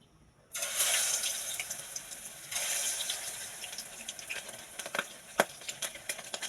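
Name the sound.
chicken frying and popping in hot oil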